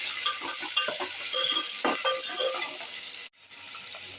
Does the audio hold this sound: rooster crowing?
no